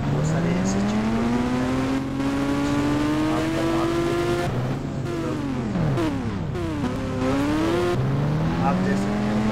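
A motorcycle engine in the mobile game Indian Bike Driving 3D drones loudly and steadily, its pitch rising slowly, dipping sharply, then climbing again as the rider shifts speed.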